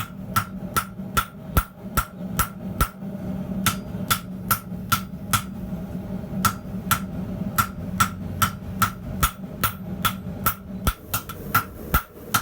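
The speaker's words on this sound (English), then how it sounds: "This is the water tower hammer that I turned into a straight peen." Steady hammer blows ring out on hot high-carbon steel from an old file, forged with a straight peen hammer into a drawknife, sharp metallic strikes in an irregular rhythm over a low rumbling hum, close and fairly loud.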